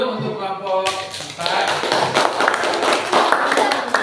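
A classroom group gives a round of clapping for a presenting student group, rapid uneven hand claps and taps starting abruptly after a moment of voices and continuing steadily with talk mixed underneath.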